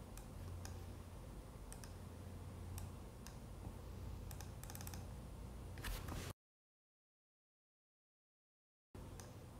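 Typing on a computer keyboard while entering text in Photoshop: faint, sparse keystrokes clicking at uneven intervals over low room hiss, cut by a few seconds of dead silence.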